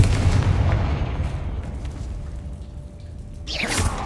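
The Bombarda explosion spell goes off in the Hogwarts Legacy video game, a loud, heavy blast with a long rumbling tail and a second burst near the end, with no speech.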